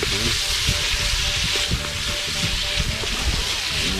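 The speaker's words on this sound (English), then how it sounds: "One, we saute them up." Food sautés in coconut milk in a pot for a one-pot meal, with a loud, steady sizzle and bubbling crackle and occasional stirring clatter throughout.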